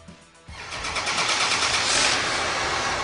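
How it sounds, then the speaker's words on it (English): An Apache sprayer's engine starts for the first time on the factory floor: a short crank, then the engine catches and settles into a loud, steady mid-pitched run that swells slightly as it builds. "The initial startup of the machine."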